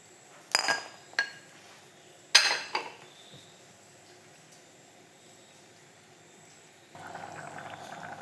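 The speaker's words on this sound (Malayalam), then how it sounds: "ഇനി ഇത് നല്ലോണം ഒന്ന് തിളക്കട്ടെ." A pot of lemon curry with cut lemon pieces simmers on the stove, a low steady boil under a few sharp clinks of a utensil against the pot early on, with a louder bubbling rise near the end.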